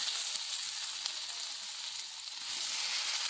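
Onions and tomatoes fry in hot oil in a pan, giving a steady, soft sizzle with faint crackles and no talk.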